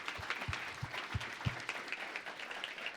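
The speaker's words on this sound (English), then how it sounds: "So if you would, please, another round of applause." Applause from an audience at a New York location-technology meetup, a moderate scatter of claps with a few sharp, close individual hand claps standing out over a softer steady patter.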